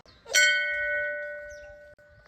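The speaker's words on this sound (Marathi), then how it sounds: "आता घंटा आली बरं का बघायचा घंटेचा आवाज" A single school bell is struck once and rings on with a clear, sustained metallic tone that slowly fades, with no voices.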